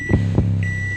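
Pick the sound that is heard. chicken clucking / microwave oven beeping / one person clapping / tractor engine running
microwave oven beeping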